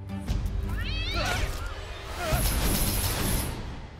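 A cat meows in a few rising and falling cries amid busy background noise and a swishing sound, with some voices nearby.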